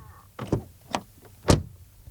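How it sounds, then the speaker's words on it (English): Car door on a Skoda Superb Scout Combi estate being shut, heard as a few solid thuds, the last one loudest and sharpest, with no talking. "Door closing sound."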